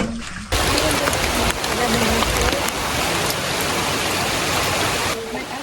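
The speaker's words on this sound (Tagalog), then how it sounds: "Inabot na kami ng ulan dito sa farm. Lakas ng ulan, no?" Heavy rain pouring down at a peanut farm, a loud steady broadband hiss and patter that starts suddenly and holds throughout, with people speaking beneath it.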